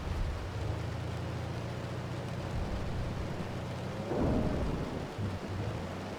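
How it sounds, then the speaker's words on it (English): Heavy rain and hail drum steadily on a moving car during a thunderstorm, a dense continuous roar with a low engine rumble beneath and a brief louder swell partway through. "We are driving through more hail"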